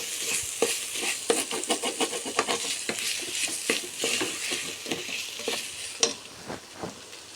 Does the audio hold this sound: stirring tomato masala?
yes